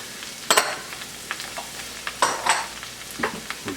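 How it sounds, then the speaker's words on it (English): Onions and jalapenos sautéing in butter in a pan give a soft sizzle. Louder bursts of crackle and scraping come as the pan is stirred, close up, with no voices. "Alright, our butter is cooking. Now I'm going to go ahead and add our onions to this and our jalapenos."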